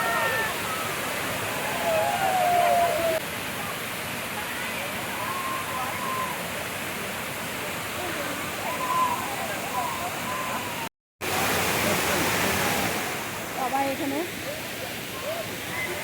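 A waterfall near Guwahati, where people are bathing, gives a steady, enveloping roar of rushing water throughout, with faint voices in the background and one brief dropout.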